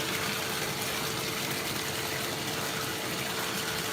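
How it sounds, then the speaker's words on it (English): Water pouring steadily into a container to fill it, a dense, loud and continuous rushing gush with no pauses and no talking. "I'm just going to put more water in."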